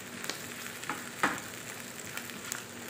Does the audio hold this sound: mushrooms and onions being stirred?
yes